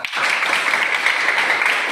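A classroom of pupils applauds during a science lesson, a brief burst of loud, continuous clapping lasting under two seconds.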